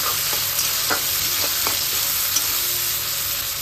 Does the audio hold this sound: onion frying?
yes